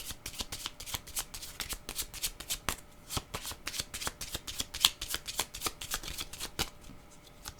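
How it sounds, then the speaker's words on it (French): Tarot cards of a Kepler deck being shuffled, a rapid run of crisp riffling flicks and slaps close to the ear, continuous for several seconds with no voice. "je vais y aller avec mes petites cartes de mon jeu de Kepler"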